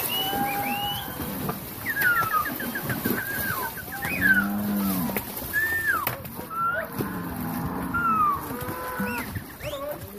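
Cattle moo in low, drawn-out calls at a moderate distance on a KwaZulu-Natal farm during cattle dipping, mingled with chickens clucking and other farmyard noises.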